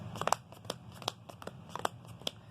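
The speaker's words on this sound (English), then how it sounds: "So now we're going to shuffle one more time." A deck of trading cards for a card game is shuffled up close. Quick crisp riffling clicks and crinkly snaps come in uneven bursts, with no talking.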